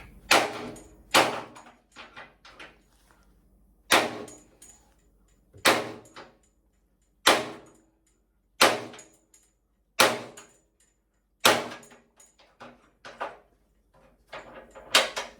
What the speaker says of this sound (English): Okay, bigger hammer, bigger punch.